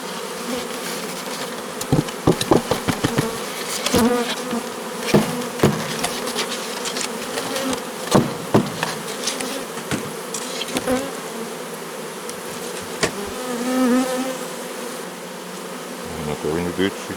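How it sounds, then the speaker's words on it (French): Dense honeybee buzzing fills the air close by during a colony transfer into a Dadant 10 hive, punctuated by repeated sharp knocks and taps of wooden frames and hive parts. "les abeilles qui sont dedans vont retourner à la ruche"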